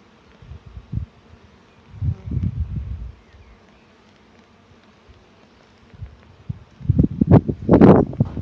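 Honeybees buzz around an open hive during a spring beehive rescue, the buzzing coming in scattered bursts that swell loud and close near the end, with quiet gaps and light rustling between.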